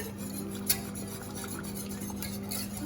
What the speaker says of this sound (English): for me it's better when I whisk.